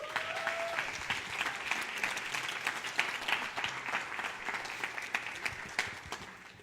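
A church congregation claps in a steady, moderately paced round of applause with distinct individual claps, somewhat distant and fairly quiet in a reverberant hall.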